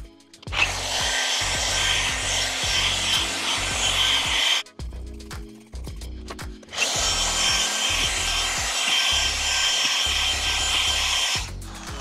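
A Stanley SP137 polisher running at 1700-2000 rpm grinds over granite stone with a loud, steady whine, stopping briefly around midway before spinning up again, with rubbing and knocking underneath and no talk.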